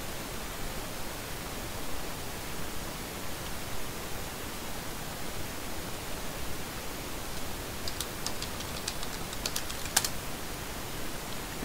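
A password is typed on a computer keyboard: a short burst of faint, quick keystroke clicks near the end, over a steady hiss of background noise.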